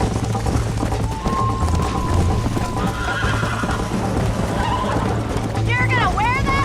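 Horse in the video game Red Dead Redemption gallops with steady rapid hoofbeats and gives a loud neigh near the end, while people talk and shout over it throughout.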